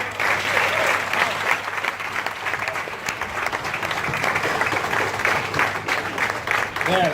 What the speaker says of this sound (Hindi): जबरदस्त तालियां हो सकती है